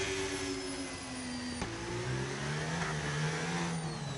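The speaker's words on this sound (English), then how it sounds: "there's the safety car" The F1 25 safety car drives past during the Italian GP at Monza. Its engine whines steadily in the mid range, and the pitch drifts as it passes. The sound is moderately faint and continuous, with no voices.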